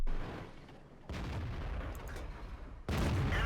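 Tank gun blasts in World of Tanks, with sharp booming shots separated by short pauses, the last one loudest, with no voices over them.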